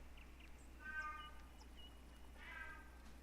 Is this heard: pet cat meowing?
yes